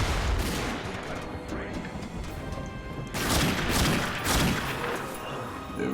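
Gunfire from The Darkness II rings out in a string of loud, overlapping shots and bangs, with heavier bursts in the second half of the game sequence.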